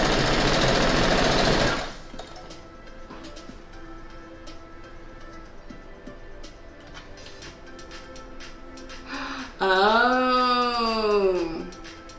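A sewing machine stitches the pixelated Halloween quilt bat block, a fast even mechanical whirring and ticking held for several seconds, with a loud burst at the start and people talking near the end.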